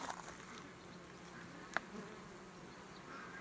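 Honeybees buzz steadily in a low drone around a hive, several insects flying nearby, with one brief tap partway through.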